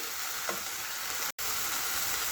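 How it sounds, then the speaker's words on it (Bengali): Tangra fish frying in mustard paste and being stirred in a pan gives a steady, close, hissing sizzle that cuts out for a moment partway through. "একটু সময় নেড়ে নিলাম"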